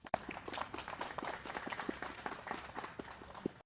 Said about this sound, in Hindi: जोरदार तालियां हो जाए एक बार सर के लिए प्लीज